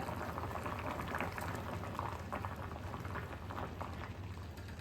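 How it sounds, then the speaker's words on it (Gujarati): Water in a pot on a stove flame bubbling at a steady rolling boil, a continuous close hiss with dense popping bubbles, no voices. "મિત્રો અહીંયા આપણું પાણી ઉકળવા લાગ્યું છે"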